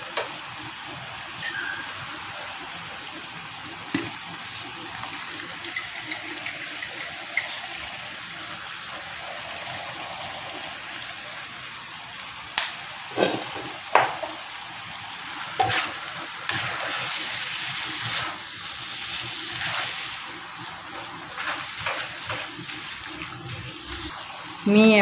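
Yellow noodles for mee goreng are rinsed under a steady stream of running tap water that splashes and gushes continuously, with occasional clatters and a person talking over it.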